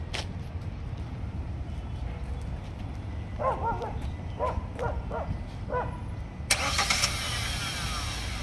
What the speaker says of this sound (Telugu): ఇంజన్ కూడా ఒకసారి స్టార్ట్ చేసి చూపిస్తాను